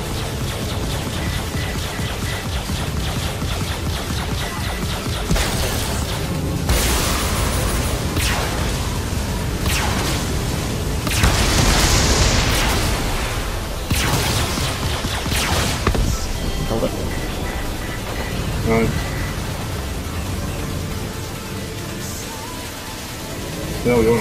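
Space combat in Star Citizen with ships trading fire: a dense, loud wash of gunfire rumble and explosive bursts that swells and fades throughout, with players talking over it.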